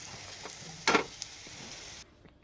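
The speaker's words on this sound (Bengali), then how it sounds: "হ্যাঁ, লবণ দিয়ে ভেজে নেবো।" Potatoes frying in hot oil with salt give a steady, soft sizzle, with a brief louder crackling burst partway through before the hiss drops quieter.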